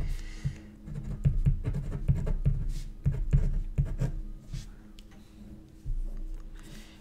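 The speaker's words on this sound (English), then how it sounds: "I'm going to write it down right here just to clarify." A pen writing by hand while circuit equations are worked out, a rapid series of scratchy strokes and taps in irregular bursts, close and clear with short pauses and no speech.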